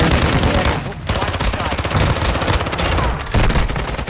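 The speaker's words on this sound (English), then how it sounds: "Taking effective fire" Rapid automatic gunfire in a video game, dense bursts of shots rattling almost continuously with brief pauses, loud and close.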